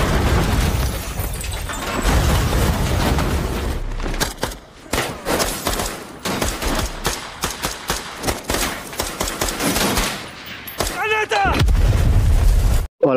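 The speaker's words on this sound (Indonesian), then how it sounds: "mereka terlibat baku tembak dengan anak buah Jurab di tempat tersebut" Dense gunfire with heavy blasts and shattering rings through an action-film shootout with henchmen after a car is struck by an RPG. Rapid bursts and booms run nearly nonstop and loud, with brief lulls and a few faint voices.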